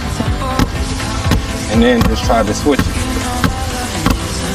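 Two basketballs bounce rapidly and overlap, thumping on a hard court in a busy dribbling rhythm, with a voice speaking briefly over the dribbling.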